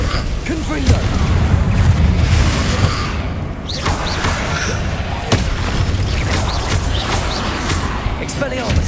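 Repeated Confringo blasting-spell explosions in the video game Hogwarts Legacy, booming bursts with mechanical creaks over a constant dense battle din. Voices call out between the blasts.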